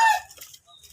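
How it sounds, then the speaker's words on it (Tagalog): Chickens on a backyard farm with several roosters, a brief sharp cluck followed by softer, scattered clucking calls, close by and loud at first, then fading over about a second. "Ang dami niyang mga manok."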